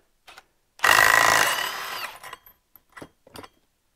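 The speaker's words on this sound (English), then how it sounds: "We're just going to pull this bolt off." Power tool loosening the clutch bolt on a Ski-Doo p-drive snowmobile clutch, one loud whirring burst of a little over a second, then a few short clicks and clinks.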